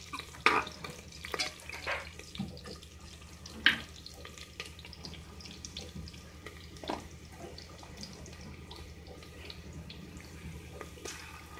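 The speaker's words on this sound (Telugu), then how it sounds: "ఉల్లిగడ్డ వేగుతుంది." Chopped onion fries in a pan for a goat trotter and head curry, giving a soft, steady sizzle with occasional sharper clicks and scrapes of stirring, fairly quiet and close.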